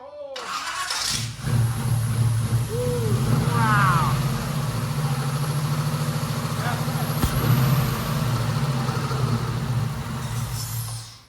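A 6.2L LS engine converted to four-valve overhead cams and fitted with Holley Terminator X fuel injection, installed in a 1934 Ford, cranks and catches about a second in, then settles into a steady, loud, rumbling idle.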